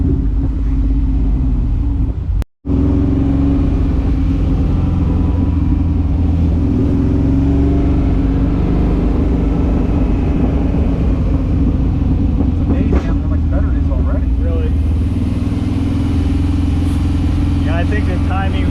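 A light 1962 Corvette with slightly off ignition timing rumbles and revs under throttle while driving, a loud, continuous low engine drone with surges, heard from inside the car as people talk over it.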